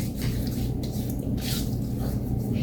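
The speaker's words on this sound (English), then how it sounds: "let's get a little water on the face" Water splashed and rubbed onto the face with the hands before a wet shave, close wet slapping and dripping bursts over a running tap, no talk.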